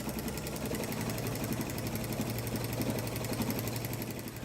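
A home sewing machine stitches through a Minky quilt-as-you-go quilt, its steady fast mechanical chatter and motor hum running continuously and close, with no pauses.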